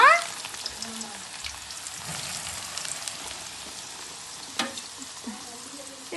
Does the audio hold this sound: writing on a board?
no